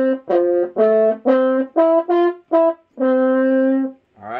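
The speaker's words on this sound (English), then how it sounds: "Make sure that you are ready for the main melody at 25." A French horn plays the main melody of a song as a string of clear, sustained notes with short gaps between them. The final note is held longest. The instrument is heard alone and up close.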